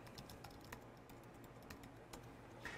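Quiet, steady typing of a command on a computer keyboard, with a run of light, close key clicks and a few slightly sharper taps.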